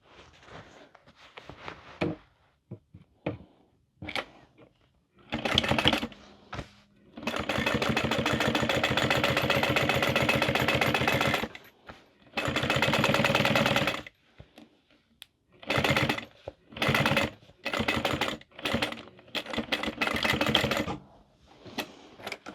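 A sewing machine top stitching a boxy bag runs in several bursts, one long steady run and a few shorter ones, with handling clicks and rustles between them.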